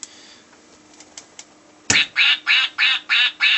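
A Howard the Duck toy sounds six loud, evenly spaced electronic quacks after a few faint clicks and taps, close to the listener.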